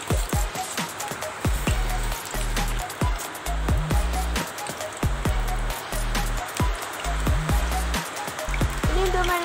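Heavy rain falls steadily outside a home kitchen, a dense continuous patter with louder drops striking a nearby surface throughout.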